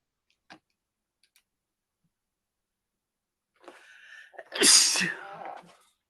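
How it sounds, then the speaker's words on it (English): A single sharp sneeze close by, preceded by a faint click and a short breathy intake. "Bless you if you just sneeze."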